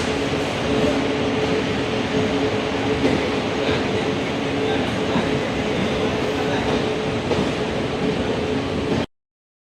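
A 19320 Veraval Mahamana Express hauled by a WDP-7 locomotive arrives at Rajkot platform 1, its loud steady rumble and rolling wagon noise continuing close by for about nine seconds before cutting off.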